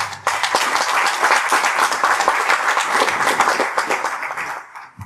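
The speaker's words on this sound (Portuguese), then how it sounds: "Un aplauso, por favor" Audience applause at a keynote conference welcoming a speaker from Brazil's environment ministry water agency, a loud sustained burst of many people clapping that starts abruptly and fades out at the end.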